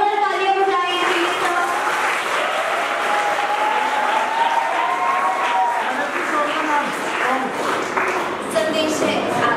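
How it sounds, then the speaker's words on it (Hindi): An audience at a school film festival event in Jaipur applauds performers called onto the stage, a dense, steady clapping that stays loud throughout, with voices rising over it. "जोरदार तालियां बजाएं प्लीज"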